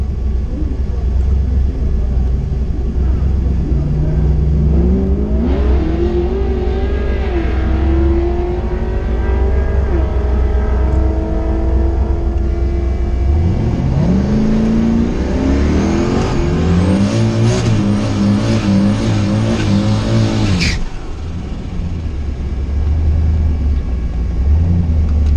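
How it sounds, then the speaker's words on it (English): Drag racing car doing a burnout at the strip: loud continuous engine roar with rising revs and rumbling tire spin, building in intensity before a sharp cutoff and a settling idle. "Lining up for the burnout."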